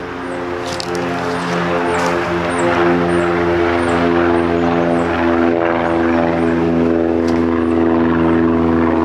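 A propeller airplane passes overhead with a loud, steady droning hum that holds for about nine seconds, with faint high chirps above it.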